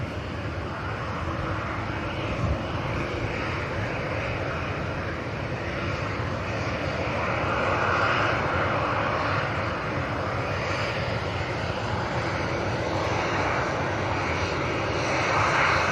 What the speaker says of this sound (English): There's a little bit of 757 loveliness coming over here.